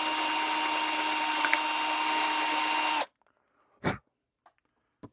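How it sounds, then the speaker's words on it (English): Power drill boring into a plastic model starship part, a loud steady whine held for about three seconds then cut off, followed by a couple of short sharp bursts as the drill is touched in again. "Now, taking the drill, and I'm just going to kind of work back and forth a little bit here."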